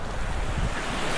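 Ocean waves wash onto a seashore with steady rushing surf and heavy wind buffeting the microphone, loud and continuous with no talking.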